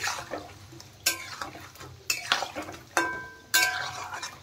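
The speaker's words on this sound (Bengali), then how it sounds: "মিডিয়াম ফ্লেমে কিন্তু ভাজতে হবে সমোসাগুলো। এখন একটু দেখেন নেড়ে দিচ্ছি।" Samosas frying in oil over a medium flame being stirred, soft bubbling under several sharp metallic clinks of a spoon against the pan, spaced irregularly and close.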